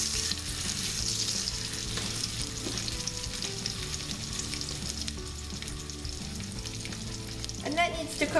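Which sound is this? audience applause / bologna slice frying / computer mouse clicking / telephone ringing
bologna slice frying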